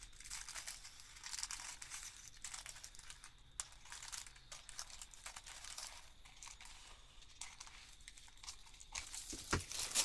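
Paper being cut across a journal page, a faint continuous crisp crinkling and snipping rustle heard close up, low in level with a few sharper clicks near the end.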